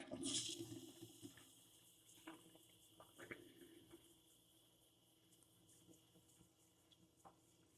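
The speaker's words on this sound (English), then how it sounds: "Now I'm gonna flush it one more time" An RV toilet flushes with a short burst of rushing water, then trickles and drains quietly in a small enclosed space.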